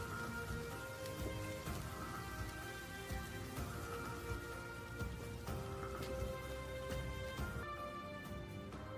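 Rain falling steadily in an anime scene, a dense even patter of drops layered under a soft musical score, continuous throughout with no speech.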